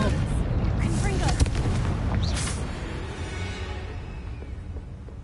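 A Confringo spell blast goes off in a Harry Potter video game, a booming explosive burst near the start that rolls into a long fading rumble, with game music and effects underneath.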